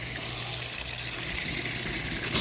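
Water gushing steadily from an open sprinkler system line during start-up, a continuous loud hissing rush that holds even throughout with no voices.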